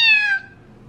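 A kitten gives a single short, high, clear meow up close, falling in pitch and fading out within half a second.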